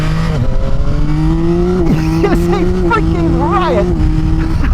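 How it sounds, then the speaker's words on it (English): A Yamaha XSR 900 motorcycle with its three-cylinder CP3 engine drones steadily and loudly, its tone rising slightly as it pulls, while a rider talks over it throughout. "The CP3 engine is so torquey."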